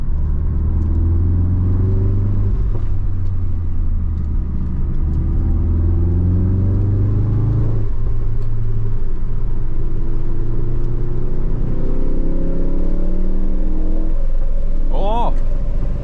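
A Ford Focus RS engine drones loudly and revs up through the gears on backroads, with constant road rumble and wind noise as it drives along.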